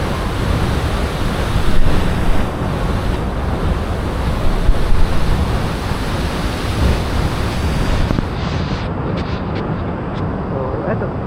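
Tuasan Falls waterfall in Camiguin gives a steady, loud broadband rush of falling water that stays constant throughout and fills the whole scene.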